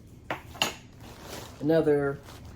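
Long teaspoons being handled indoors, giving a couple of sharp metallic clinks followed by a brief ringing rattle of cutlery close by.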